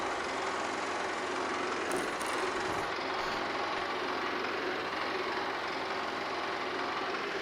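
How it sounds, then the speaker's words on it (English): Massey Ferguson tractor engine in Farming Simulator 22, a steady continuous mechanical drone running unbroken and fairly loud throughout, with no talk. "And for that, we're going to use the Massey Ferguson again."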